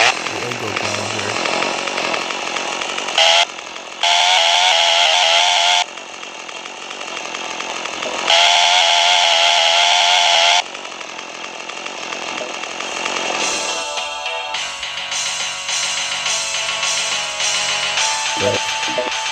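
Angle grinder weapon in the shooter game Freedoom, a loud, dense, raspy mechanical whine that cuts in and out in bursts, with the pitch and loudness shifting between segments, steady and close throughout.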